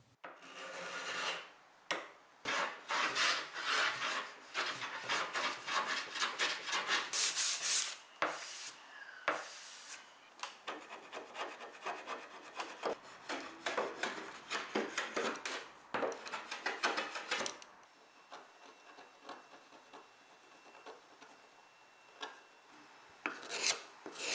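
A hand scraper rasps across the wood of a 1930s rocking chair during restoration, a long run of quick, close, dry strokes, then sparser, softer scraping, no talking.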